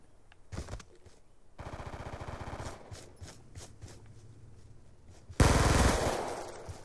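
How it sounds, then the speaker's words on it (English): Rapid automatic gunfire rattles in a Call of Duty: Black Ops 2 match, with a sustained close burst of shots followed later by a louder, sharper volley, and no speech over it. "someone's opening fire on me"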